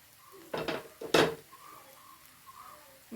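A spatula stirring a drumstick leaf and egg stir-fry in a pan, two loud close metallic scrapes and clatters early on, then a faint low sizzle.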